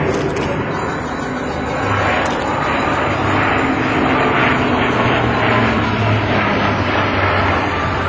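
A Spartan military transport plane flies a climbing turn at an air show, its engines giving a loud, continuous roaring drone that swells slightly, heard from the ground with no speech over it.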